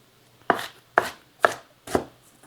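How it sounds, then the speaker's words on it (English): A knife chops mushrooms and onion on a board, four evenly spaced, sharp, close chops, each with a brief crunchy tail, with no talk. "I'm just going to come back through here and chop these again."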